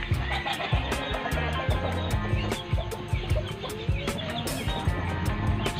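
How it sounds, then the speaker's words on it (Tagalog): Chicks and chickens cluck and peep steadily at close range, a busy overlapping chorus of short calls with a low background hum throughout. "Ito yung mga sisiw natin"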